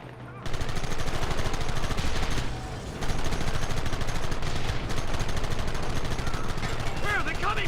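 Gunfire rattles almost nonstop through a Red Dead Redemption shootout, dense rapid shots with a brief dip before resuming loud and busy, with shouting voices mixed in.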